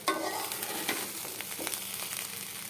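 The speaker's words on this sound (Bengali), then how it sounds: "এখন আলুগুলো দিয়ে সুন্দর করে আর একটু ভেজে নেওয়া হবে।" Potatoes and rice frying in a pan give a soft, steady sizzle, broken by a few sharp crackles and stirring scrapes, with no voices.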